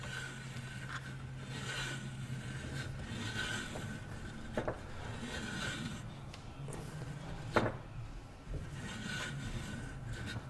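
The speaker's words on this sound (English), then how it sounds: "And just run the tap in. You're totally ruining this bushing when you do this, by the way." A steel tap is run down into a worn bushing on a vintage unit or pre-unit Triumph or BSA motorcycle, giving a steady close rasping, scraping grind with a few sharp clicks.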